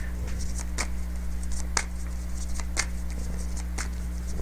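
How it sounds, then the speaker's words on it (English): A deck of cards being shuffled, with a run of sharp riffle bursts repeating at a steady pace, close and fairly loud over a low, even hum. "Let's shuffle the deck."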